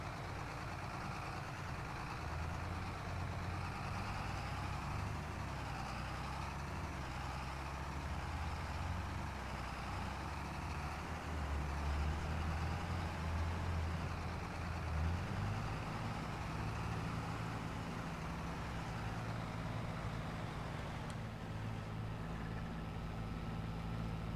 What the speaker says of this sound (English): The sounds for this tractor are just so good though.